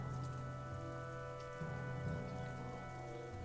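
Steady rain in the game Banner Saga 2, a soft, continuous hiss of rainfall over muddy ground, faint and even throughout with a low droning undertone and no voices.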